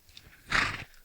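A horse on the outdoor set of a 1976 western gives a short, breathy neigh or snort lasting under a second, moderately close, with quiet ambience before and after.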